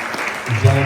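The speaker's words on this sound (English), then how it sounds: "Another round of applause for Mr. Aaron." Applause from attendees at a meeting in honor of a presenter, a short burst of clapping that gives way to a voice speaking over it.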